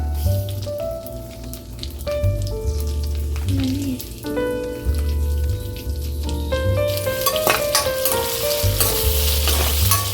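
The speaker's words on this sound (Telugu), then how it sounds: "వీటిని ఈ ఆయిల్ బటర్ వేసాం కదా, దీంట్లో కొద్దిగా వేగనిద్దాం, ఆ పచ్చి ఇదంతా వెళ్ళేంత వరకు" Red and yellow capsicum with green peas frying in oil and butter for paneer butter masala, a loud continuous close sizzle and crackle under steady background music, growing brighter toward the end.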